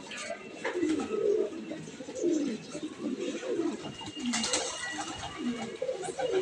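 Pigeons coo in repeated soft, throaty rolls, close by and fairly quiet, with light fluttering and background noise between the calls.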